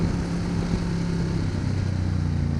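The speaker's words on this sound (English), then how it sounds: "Get your motor running." A 2011 Ducati Diavel Carbon motorcycle engine runs while riding, a steady close-up drone with a rumbling low pulse and wind noise throughout.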